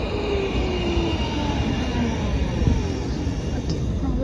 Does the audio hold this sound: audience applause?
no